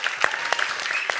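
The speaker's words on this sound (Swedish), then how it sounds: "Jag tycker ni kan ge en applåd faktiskt." An audience claps at a cooking competition heat in Halmstad, a brief burst of dense, steady applause from a small crowd, close and lively.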